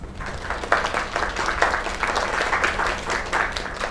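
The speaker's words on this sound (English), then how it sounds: "Another round of applause." A crowd applauds steadily in the video game Lake, a dense wash of clapping that stays loud throughout without pause.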